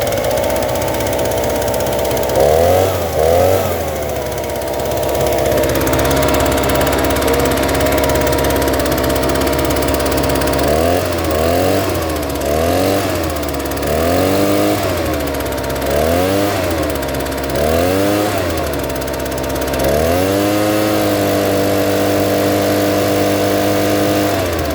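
Echo PB580T backpack leaf blower with a fuel-squirting fault runs at a loud steady drone, its two-stroke engine surging up and down in repeated throttle blips before settling into a sustained high run.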